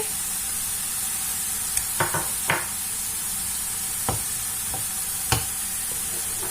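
Ingredients are stirred in a hot cooking pan, a steady sizzling hiss broken by a few sharp scrapes and knocks of the spoon against the pan.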